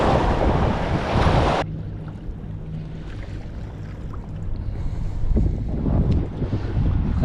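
A Takacat LX 300 inflatable boat runs on a Yamaha 9.9HP four-stroke outboard, a low steady engine drone under heavy wind buffeting and rushing water.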